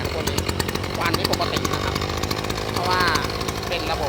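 A small two-stroke petrol engine on a Kubota T-30 tiller runs steadily at high revs, a loud buzzing drone with a rapid pulsing rattle throughout.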